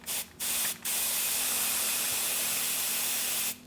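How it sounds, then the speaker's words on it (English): Close spray paint can hissing onto a table: two short bursts, then one long continuous spray lasting a few seconds before it cuts off. "grab your spray paint"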